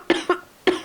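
A woman's short dry cough, three sharp hacks close to the mic: two in quick succession, then a third after a pause.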